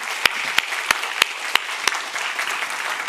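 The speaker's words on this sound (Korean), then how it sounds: "우리 주님께 영광의 박수 올려드리겠습니다." Church congregation clapping in worship, a series of about six evenly spaced sharp claps over a soft wash of broad applause, fairly close and moderately loud, with no voices.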